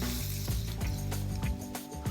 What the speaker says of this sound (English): Let's saute this till the raw flavor of ginger goes away.